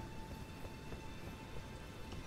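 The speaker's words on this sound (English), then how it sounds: "Is this scripted rain to set the scene?" Rain falls in the Stormhill area of the video game Elden Ring, a soft, steady hiss of drops with no breaks, faint and even throughout and with nobody talking.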